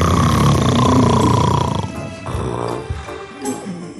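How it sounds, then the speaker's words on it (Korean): A father snores loudly in a cartoon scene, a single long rumbling, grunting snore close and alone, heavy and rough at first, then fading into softer snorting breaths. "아빠의 코 고는 소리였던 거였어"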